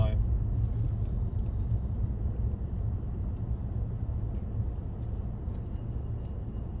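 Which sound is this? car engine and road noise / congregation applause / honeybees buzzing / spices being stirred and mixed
car engine and road noise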